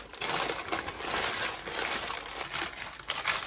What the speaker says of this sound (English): Place another piece of baking paper on top.